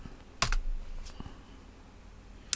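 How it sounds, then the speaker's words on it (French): Computer keyboard keys, arrow keys among them, clacking in a few scattered presses during a Linux package install on Ubuntu, with one firm tap near the end; no voices. "je me déplace avec les touches, avec les flèches du clavier"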